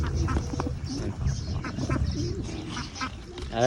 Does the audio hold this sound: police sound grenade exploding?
no